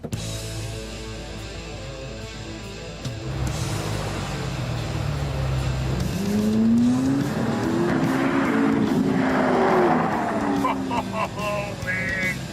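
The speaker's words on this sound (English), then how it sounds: "You gotta let me drive this car home." A high-horsepower quarter-mile drag car rumbles and then revs, its engine note climbing and wavering under a steady noisy roar, with wind and road noise building as it drives; no clear speech over it.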